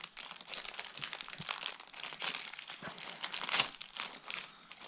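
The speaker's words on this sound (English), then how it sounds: "Go ahead and just rip this bag open." A plastic bag from an Edelbrock Performer carburetor rebuild kit is ripped open and handled, giving close, continuous crinkling and crackling for several seconds.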